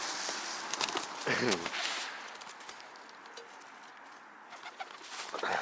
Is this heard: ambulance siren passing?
no